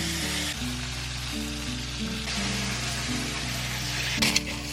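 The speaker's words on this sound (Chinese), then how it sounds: "油热过后，我们先把这一个猪颈肉放上去" Pieces of pork neck sizzle in hot oil over medium-low heat, a steady broadband frying hiss that runs throughout beneath a tonal musical backdrop, with a brief louder clatter near the end.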